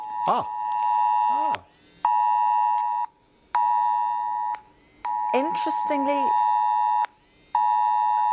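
UK emergency alert test tone from a mobile phone, a loud, harsh two-part electronic tone sounding in repeated blasts about a second long with short gaps, while someone talks over it.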